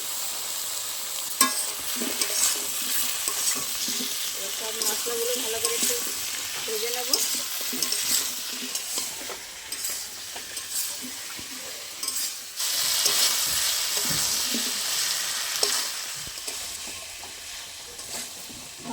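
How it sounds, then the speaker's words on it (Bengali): Banana and potato pieces fry with onion and tomato in a pan for a fish curry, a continuous close sizzle broken by repeated scraping stirs and clatters, growing louder and brighter near the end. "পেঁয়াজ আর টমেটোর মধ্যে এবার কেটে রাখা কলা আর আলু একসাথে দিয়ে দেবো আর আমি এখন একসাথেই ভাজবো"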